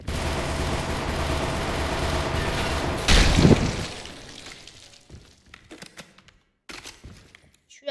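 Pump shotgun fire in a Roblox game comes as a busy stretch of rapid gunshots and crackling, then a loud blast, followed by sparser scattered shots and clicks as the action thins out.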